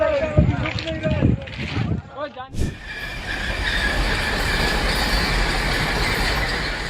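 A derailing train gives off a loud, steady, close roar and rumble of grinding rail noise that takes over after a few seconds of voices and clattering at the start.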